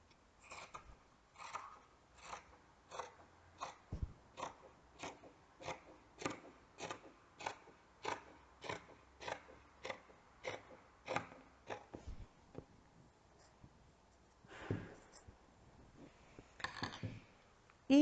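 Scissors snip through a t-shirt in a steady run of crisp, close cuts, each blade closing with a soft crunch, quiet and without talk.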